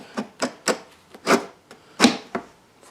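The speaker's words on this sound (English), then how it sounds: "we need to bring this rail back" A Mazda Miata seat rail slides back in a series of about eight short, close scraping strokes in an uneven rhythm, with no talking.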